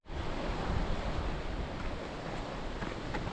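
Sea surf churns on the rocky coast below a coastal hiking path on Belle-Île, a steady broadband wash of water that stays loud and unbroken throughout.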